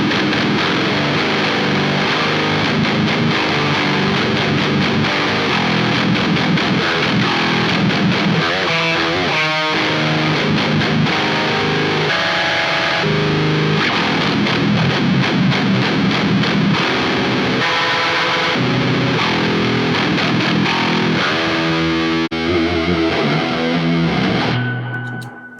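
Distorted electric guitar played through a battery-powered portable rig with effects, loud and continuous for about 25 seconds, strummed chords and riffs that cut off abruptly at the end, with no talking.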